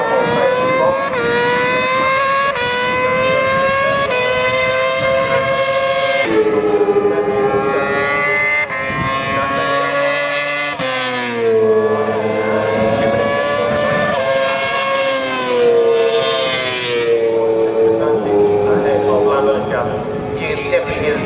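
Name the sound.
Yamaha R6 race motorcycles accelerating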